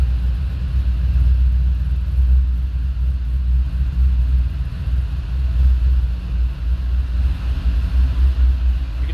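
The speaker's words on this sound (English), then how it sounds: "Magnaflow exhaust" A 2010 Chevrolet Camaro SS twin-turbo prototype with a Magnaflow exhaust idles nearby, giving a deep, steady low rumble that holds throughout with no speech.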